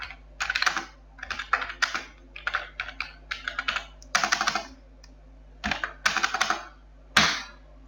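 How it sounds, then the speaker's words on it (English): Keys clatter on a computer keyboard as text is entered into an Excel spreadsheet, coming in quick bursts of close, crisp clicks with short pauses between words and a few louder single strokes. "Suppose I type here"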